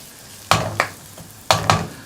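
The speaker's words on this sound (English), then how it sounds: "that needs to fry and caramelize for about 4 or 5 minutes" Onions frying and caramelizing in a pan for a restaurant-style vindaloo, with a soft sizzle broken by two pairs of sharp spatula scrapes and stirs, heard close up and without voices.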